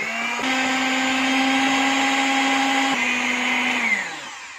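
Electric hand mixer beating cake batter, a loud steady motor whine that steps up in speed midway, then winds down near the end.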